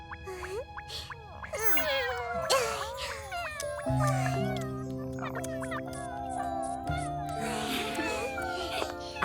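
A cartoon kitten meows several times in rising, wavering cries, over soft background music with sustained tones.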